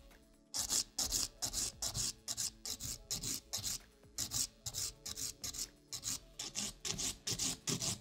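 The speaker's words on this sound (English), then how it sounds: "I will be starting with my 100 grit purple terminator file" A purple 100 grit file rasps against gel polish on a fingernail in quick, regular back-and-forth strokes, close and crisp, with brief pauses between bursts and no talking.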